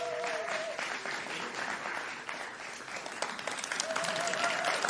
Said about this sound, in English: If I can get a really big round of applause for this team.